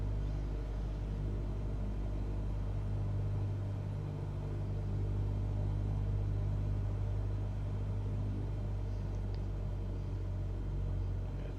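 A Cessna 172 aircraft engine drones at reduced throttle, a steady, muffled low hum heard from inside the cabin, even and unbroken throughout.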